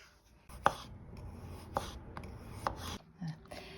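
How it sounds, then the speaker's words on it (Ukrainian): Knife cuts through carrots on a board, three or four crisp, sharp chops spaced about a second apart over a low background hum. "А тепер нарізаємо моркву."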